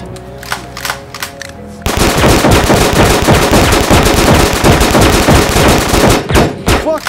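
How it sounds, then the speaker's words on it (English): Gunfire in a short film starts with a few scattered shots, then breaks into a loud, continuous automatic barrage that hammers on for several seconds before ending with a few last shots. "keep shooting until you're out of rounds"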